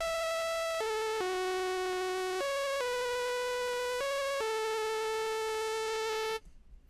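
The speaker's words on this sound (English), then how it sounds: "Except on the hook, we add in a second lead" A bright, buzzy synth lead plays a simple stepwise melody of sustained notes, loud and alone, ending with a brief soft tail.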